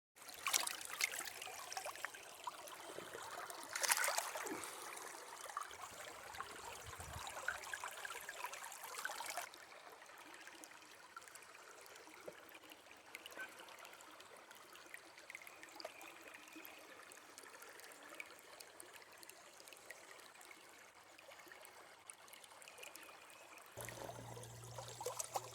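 Water runs and trickles through a river gold sluice in a steady, soft flow, faint and continuous, briefly a little louder at the start with occasional small splashes.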